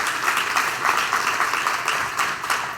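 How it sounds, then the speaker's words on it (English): Round of applause from a conference audience at a mental health summit for an events team, a close, lively patter of many hands clapping, steady and fairly loud for a few seconds with slight rhythmic swells. "So if we can give Nicole's a round of applause."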